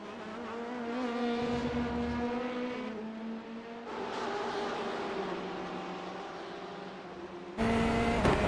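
Race car engines roar on track at Sebring in a sim racing game, a Corvette chasing a pack of BMWs, with steady droning tones that shift pitch as gears change.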